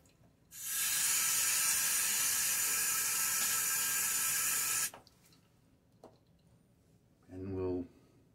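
A tap gushes steadily for about four seconds while someone wets their face before a shave, then shuts off abruptly, followed by faint splashes and a brief voice.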